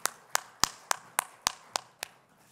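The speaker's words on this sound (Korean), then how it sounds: "하나님께 더 큰 영광의 박수 올려드릴까요?" A congregation in a church service claps in praise, giving about eight evenly spaced, crisp claps that come through faint and steady with no talking.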